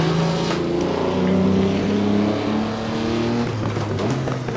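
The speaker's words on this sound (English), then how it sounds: "Using the entire rev range just to try to get as much out of this engine" A historic race car engine in Assetto Corsa revs hard and steadily, climbing and dropping through the rev range with shifting harmonic tones, loud and close throughout.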